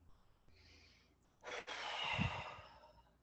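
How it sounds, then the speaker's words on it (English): A deep breath drawn in and then blown out in one long, breathy exhale during a calm meditation, close and quiet, with no talk over it. "take one deep breath in and blow it out"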